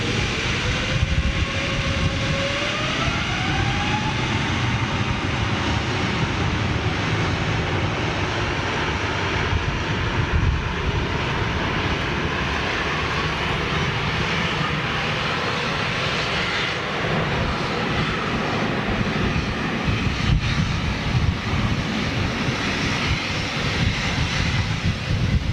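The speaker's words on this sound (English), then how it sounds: "that Virgin 747 just appeared on flight radar for takeoff" A Virgin Boeing 747 jet roars loud and steady through its takeoff run, a continuous broadband engine rumble that stays strong from start to finish with no voices over it.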